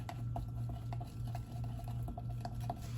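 A utensil stirs apple cider vinegar powder into a liquid mixture, giving steady soft scraping and light clinks against the container, close and continuous with no voices.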